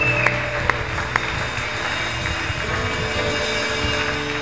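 Church congregation applauding and acclaiming, a dense continuous wash of clapping with a few sharper claps standing out early, a sustained tone beneath, no speech.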